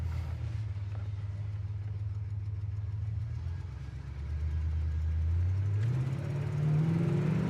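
A 1970 Oldsmobile Cutlass SX Supreme on a test drive, its engine holding a low steady drone before the revs climb in a rising pull as the car accelerates, heard from inside the cabin.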